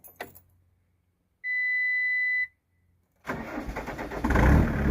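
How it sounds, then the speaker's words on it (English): A skid steer engine cranks and catches, first a short steady whine from about 1.5 to 2.5 seconds, then a loud, rough rumble starting and building toward the end, with no talking. "Get the skid steer started."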